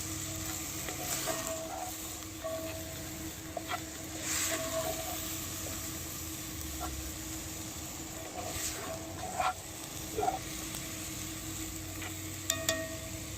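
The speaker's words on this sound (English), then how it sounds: "Now we're going to saute these onions in with this." Onions for chicken chili sauté quietly in a pan, giving a faint, steady sizzle with occasional small pops and clicks of stirring.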